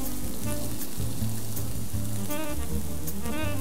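Chopped onions and coriander leaves frying in a pan for khichdi give a steady close sizzle with soft crackles, heard alone, with faint music or hum underneath.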